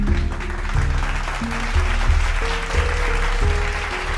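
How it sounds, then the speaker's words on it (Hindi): Audience applause at a Rashtriya Gram Swaraj Abhiyan panchayat training programme in Jammu and Kashmir, a steady, moderately loud patter lasting several seconds over a low, stepping musical tone bed. "एक बार जोर से ताली तो बजा दीजिए।"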